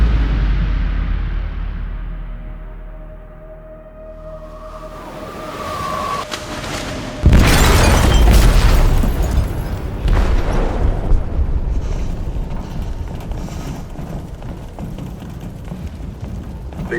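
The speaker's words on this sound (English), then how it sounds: "They detonated an explosive in the hold." A sudden loud blast in a ship's hold in the video game Detroit: Become Human, cutting through a quieter tense ambience and followed by a long rumbling, crackling aftermath that sustains to the end.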